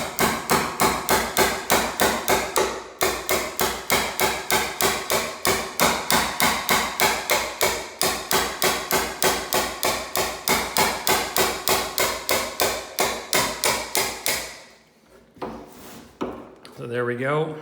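A chisel is hammered to cut a hinge mortise while hanging French doors, a loud, steady rapid series of sharp strikes close up for about fifteen seconds, then a pause and a few softer knocks.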